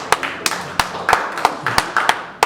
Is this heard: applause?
yes